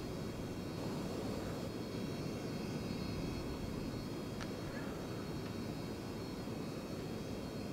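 A jet in a flight simulator taxis on the ground at Minneapolis, a constant low engine roar and broadband hiss holding steady with a faint high whine above.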